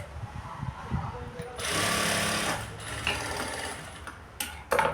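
A sewing machine stitches a blouse in a steady whirring run of about a second and a half, close and moderately loud. Soft handling clicks come before and after it, and someone speaks briefly.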